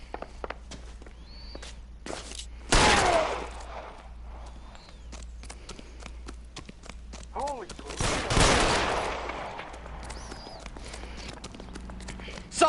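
Scattered gunshots in the detective game L.A. Noire, a couple of loud sharp reports standing out from quieter footsteps and ambience, with voices talking in between.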